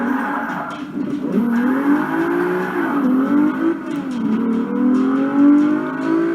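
Racing car engine in a video game, accelerating with a droning tone that climbs and drops through gear changes, steady and fairly loud with no talk.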